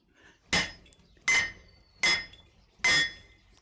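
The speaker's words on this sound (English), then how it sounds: "You can see it's rocking the whole anvil." A hammer strikes an anvil four times in a smithy, with the anvil rocking on its base. The blows are loud, close and evenly spaced, each ringing metallically, with no talk.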